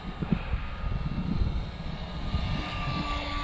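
A small RC fixed-wing plane with 1106 motors flying on a cold, windy day, a steady high motor whine holding at moderate distance with slight pitch changes and wind noise.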